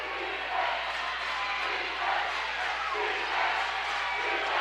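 A home crowd at a Class 1A regional championship high school basketball game, North Union against South O'Brien, roars steadily as fans rise to their feet. A commentator talks over the sustained, swelling noise.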